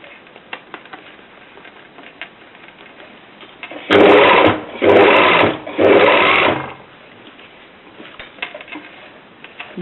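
A sewing machine stitches a round tubular seam in three loud close bursts of rapid whirring, separated by short pauses, with quiet handling noise before and after.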